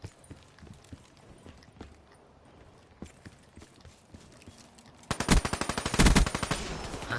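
The Weevil gun in a Call of Duty game fires a loud rapid automatic burst near the end, following quieter scattered clicks and game noise.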